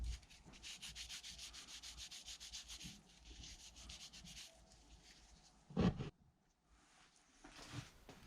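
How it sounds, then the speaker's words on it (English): A coat of wax is rubbed onto a brass tri square, a soft rhythmic scrubbing in quick close strokes, faint, pausing briefly before a louder bump. "I'll just finish off by putting a coat of wax on there"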